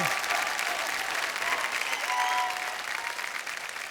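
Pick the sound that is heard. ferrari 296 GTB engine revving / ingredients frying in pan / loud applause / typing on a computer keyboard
loud applause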